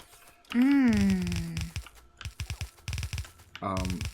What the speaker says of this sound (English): Even with my setup, you can hear my keys a little bit.